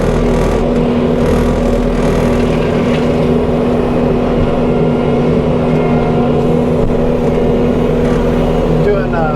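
A heavy forestry tractor engine drones continuously and loudly, with a steady low rumble and mechanical rattling throughout.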